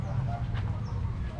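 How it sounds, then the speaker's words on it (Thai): Ducks quack around the grounds of Wat Phai Rong Wua temple, a dense flock close by with scattered calls over a constant low outdoor rumble. "ตอนนี้อยู่ในวงล้อมของเป็ดนะครับ"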